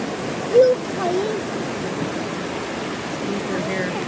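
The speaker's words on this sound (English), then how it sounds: "Let's go look at that little waterfall." A small waterfall rushes steadily outdoors as a constant moderate wash of water, with a brief voice sound near the start.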